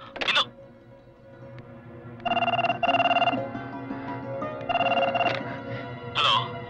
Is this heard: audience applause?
no